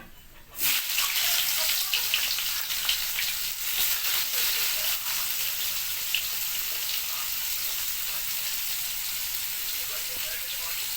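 Onions dropped into hot oil for a bitter gourd, potato and eggplant dish set off a sudden loud sizzle that settles into a steady, hissing fry, close up, with a voice speaking over it.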